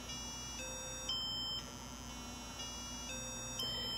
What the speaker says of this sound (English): the hardware interrupt will change this note, the 65, to the next note, which is D, which is 73